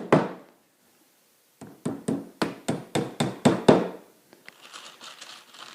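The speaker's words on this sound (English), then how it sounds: "as you're hammering, things are going to move around a little bit" A hammer drives tacks into the thin back panel of an IKEA wall cabinet, a quick run of about nine sharp, close blows after one opening strike, followed by faint rustling.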